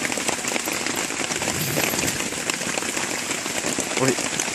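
Rain falls steadily in the Khao Yai area in the early evening, a dense continuous patter close around, with a brief voice near the end.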